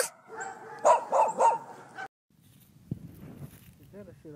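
A dog gives a quick series of yelping barks close by, then after a pause a few softer whines and yips follow.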